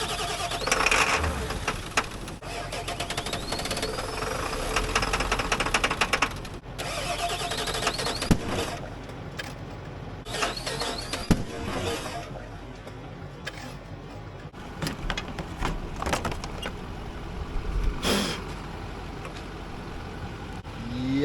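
Truck engine cranking over and over, struggling to start with a rat's nest found in the airbox, bursts of starter churning and sputtering stretched across a noisy, uneven stretch with no talk.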